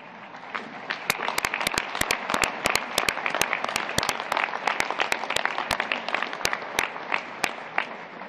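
Audience applause for two honorees at a soccer national council meeting, steady clapping with sharp, distinct individual claps standing out near the listener throughout.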